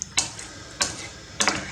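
A spoon stirs Mexican rice in a pot in three brief, evenly spaced scraping strokes, each a quick close clatter over a faint simmer.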